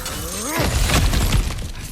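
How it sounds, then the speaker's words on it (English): Breakable objects shatter in God of War Ragnarök, with a loud crash of splintering debris and a rattle of falling pieces after a brief swooping tone, close and alone. "back to smashing through things for fun and profit"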